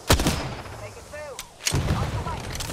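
Gunfire in the video game Apex Legends, with sharp loud shots at the start and again later, separated by whooshing, ricocheting effects and a steady rumbling background.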